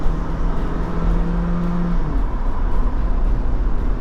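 A rental RV accelerates hard on a Japanese road with the pedal floored, a loud, continuous engine roar and road rumble heard from inside, with a tone that rises slightly and then holds.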